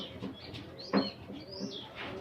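Free-roaming domestic pigeons give soft, low cooing calls, a few brief murmuring phrases at moderate distance in a quiet outdoor setting.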